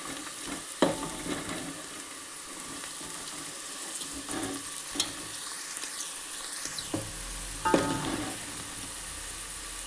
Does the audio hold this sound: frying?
yes